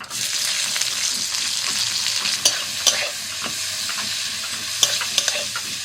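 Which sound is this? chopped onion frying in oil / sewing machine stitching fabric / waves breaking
chopped onion frying in oil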